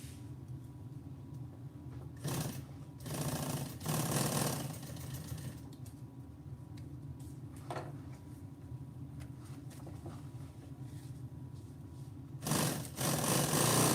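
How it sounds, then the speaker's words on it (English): A sewing machine running fast, its needle heating and melting the thread, giving a continuous mechanical whir with several louder bursts of clattering activity. "I'm sewing too fast for the machine."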